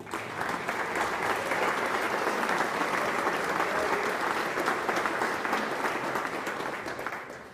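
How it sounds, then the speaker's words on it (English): An audience at the Irish America magazine Wall Street 50 keynote applauds Sister Kathleen O'Donnell, a dense, steady wash of many hands clapping for about seven seconds before tapering off at the end, with no voices over it. "I would ask you to give her a round of applause"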